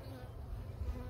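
A faint, steady low hum of bees buzzing close by, continuous droning without pauses.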